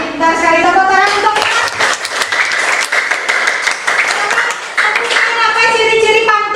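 Students in a classroom clap for a classmate's correct answer. The clapping comes in quick, rhythmic bursts mixed with children's voices calling out.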